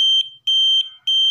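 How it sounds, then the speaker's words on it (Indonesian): A piezo buzzer on an Arduino temperature-sensor door barrier gives sharp, loud, high-pitched electronic beeps in a steady on-off pattern, two long tones with brief gaps, close and alone. "menutup dan buzzer pun akan hidup"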